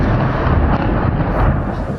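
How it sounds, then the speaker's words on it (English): An explosion at an oil refinery silo rumbles as a loud, dense, sustained roar of broadband noise without a break, heard in news footage. "An explosion at one of the silos sent its lid flying into the air."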